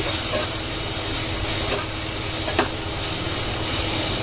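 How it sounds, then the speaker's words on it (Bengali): Pointed gourd and potato pieces fry in hot oil, giving a continuous even sizzle with a couple of faint clicks from stirring and no voices over it. "দেখেছো পটল ভাজা আমার রেডি হয়ে গেছে, আর এদিকে তরকারির জন্য আলু ভাজাও রেডি হয়ে গেছে।"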